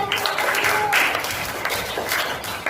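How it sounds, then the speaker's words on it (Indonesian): Applause in a classroom for a student group after their presentation on food webs, uneven bursts of clapping from a small group, fairly close, with a few voices mixed in. "kasih tepuk tangan untuk kelompok 3"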